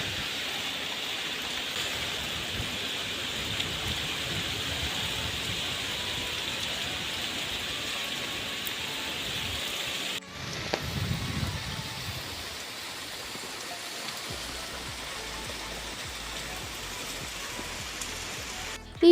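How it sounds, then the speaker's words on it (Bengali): Heavy rain pours during a storm, a steady broad hiss of downpour that continues for the whole stretch at a moderate level, with a brief thump and a short gap partway through and faint background murmur. "আর এখানে দেখো কি জোরে বৃষ্টি"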